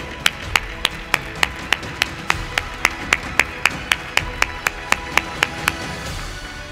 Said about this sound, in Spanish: Recibámonos con un fuerte aplauso, por favor.